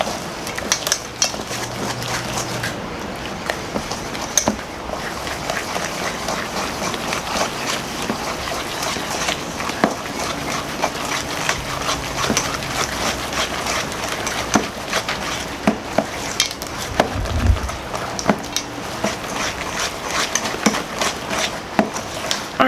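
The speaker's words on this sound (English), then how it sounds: "what I'm going to do is just go ahead and mix everything together" Lobster corndog batter is whisked in a bowl with continuous rapid clinking and scraping of the utensil against the bowl, steady and close for the whole stretch, with no talking.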